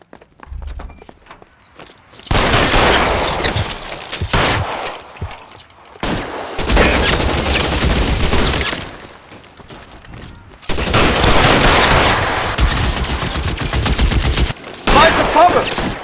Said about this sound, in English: Try shooting someone with a gun of his own.